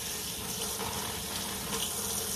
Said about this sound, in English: I'm gonna literally just pour my batter in that pan.